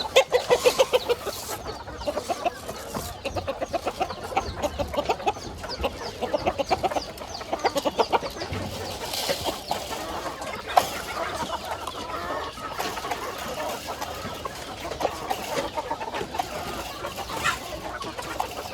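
A flock of chickens clucks continuously nearby, with overlapping short calls and occasional louder squawks.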